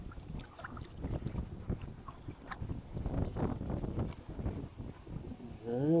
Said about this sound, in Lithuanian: Oi, vėjas tai baisus.